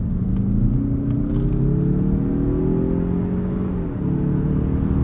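A 2021 Mazda CX-30 Turbo with a six-speed automatic pulls hard from a launch, heard from inside the cabin. The engine drone climbs steadily in pitch through the revs, then dips briefly as the next gear engages.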